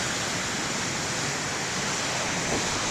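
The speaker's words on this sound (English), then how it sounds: "the waves are not that big" Ocean waves at a lighthouse beach, small surf making a constant dense broadband wash with no distinct breaks, steady and fairly loud.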